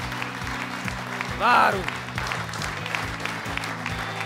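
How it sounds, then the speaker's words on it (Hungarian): An audience at a Hungarian stand-up comedy evening breaks into a short, loud burst of applause that fades quickly, with people talking over and around it. "Tapsolnak."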